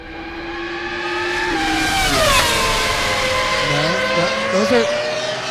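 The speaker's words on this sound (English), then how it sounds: "those were the screaming V8s from the Ferraris" Ferrari Formula 1 cars with screaming V8 engines, loud high-pitched wails that climb and sweep past, pitch dropping as they go by, with people talking briefly over them.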